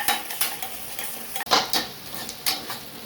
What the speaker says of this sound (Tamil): இஞ்சி பூண்டு பேஸ்ட் போட்டு வதக்கிக்கலாம்.